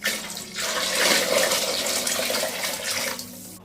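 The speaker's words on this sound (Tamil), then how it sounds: "தேவையான தண்ணி சேர்த்துக்கலாம்." Water pours steadily into a cooking pot for vegetable biryani, a continuous splashing stream that starts abruptly, runs for about three seconds, then cuts off, heard close with no voices.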